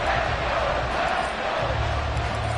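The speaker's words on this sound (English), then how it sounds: "This crowd alive again." Game stadium crowd in GFL, a broad, steady roar of cheering and noise from many fans filling the space, sustained and fairly loud throughout without a clear peak.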